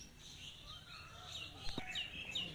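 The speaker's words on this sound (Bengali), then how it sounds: "পাখির কিচিরমিচির শব্দ" Small birds chirp and tweet in a rural village yard near a border area, a few short calls rising over quiet background hiss, moderately distant and not very loud.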